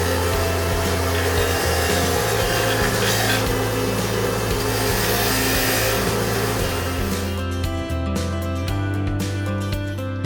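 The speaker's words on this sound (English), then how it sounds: "I'm using a brass wire wheel to remove some of the dried grass stuck to the blade." Brass wire wheel on a rotary tool scrubbing dried grass off a push mower blade, a loud steady whirring grind throughout that eases off near the end into scattered scraping.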